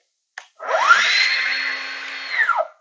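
A Festool TSC55K cordless plunge saw at its maximum speed setting 6 gives a click, then spins up to a loud, steady high-pitched motor whine, runs for about two seconds and spins down, recorded close with no talk.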